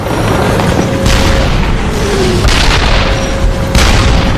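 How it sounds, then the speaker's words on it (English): Tank shells striking and exploding during a WW2 tank battle: dense, loud booming blasts roll one into another with no break, with heavier surges about every second or so. "tank is hit twice, but keeps on fighting"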